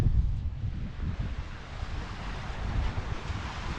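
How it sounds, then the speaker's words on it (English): Sea waves wash against rocks along the Mallorca coast at Cala Gamba, a continuous rumbling surge of surf with heavy wind buffeting the microphone, no talking. "You see the waves crashing against the rocks."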